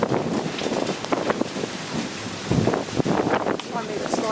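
Rain and gusting wind from a derecho storm hiss and roar steadily, with heavier bursts of pattering and buffeting partway through and a voice speaking faintly in the mix.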